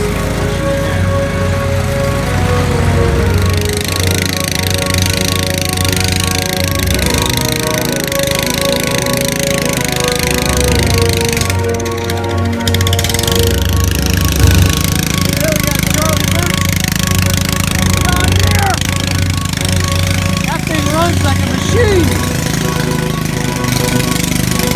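Racing lawn mower engine at a lawn mower race, running loud and close with a steady rough drone and a brief dip near the middle, people talking faintly underneath.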